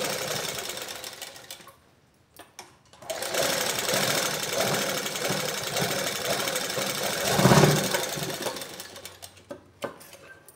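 Sewing machine stitching blouse cloth in loud rapid mechanical bursts, stopping briefly twice with short clicks between runs before running on steadily again.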